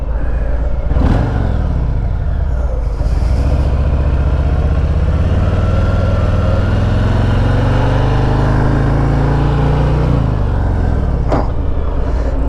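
A 2023 Harley-Davidson Fat Boy 114 motorcycle engine while riding, a loud continuous rumble that climbs and falls in pitch through gear changes and throttle shifts, with wind noise over it.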